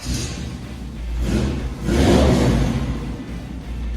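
A 1967-72 Chevy C10 pickup engine rumbles and revs as the truck pulls out of a shop nearby, low and steady with a swell in the middle, no voices.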